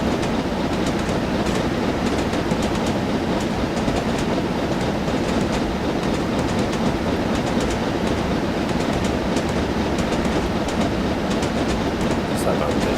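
An electric train in Train Simulator 2015, on a Somerset to Dorset route, runs steadily with a constant rumbling roar and faint rhythmic wheel clatter throughout, loud and close.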